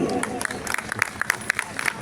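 An audience at a Hindu gathering in Indirapuram claps during a rally speech, producing scattered, sharp hand claps over a steady crowd murmur.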